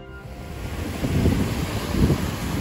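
Surf washes onto a secluded emerald-water beach on the Florida coast as a steady, close rush of waves with two swelling surges, mixed with wind buffeting the microphone.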